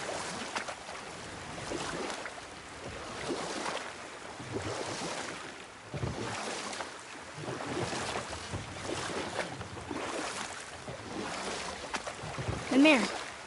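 Boat rowing across water in the God of War video game, soft repeated oar splashes and wave wash under wind, with speech over it.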